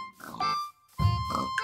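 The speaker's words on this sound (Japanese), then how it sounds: "あ、豚さんかわいいな、おい。" Pig oinks from a Minecraft game world: two short grunting oink bursts separated by a brief gap, close and fairly loud, with no talking.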